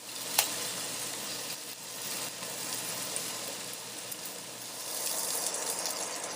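Onions are stirred around a hot pan while they brown, giving a steady close sizzle with faint scraping throughout and no talking.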